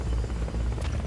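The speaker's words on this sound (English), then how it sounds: "I didn't think the helicopter could actually kill me from a distance" Steady, close helicopter rotor thrum with a low buzzing drone in Metal Gear Solid: Peace Walker, heard alone for a brief moment.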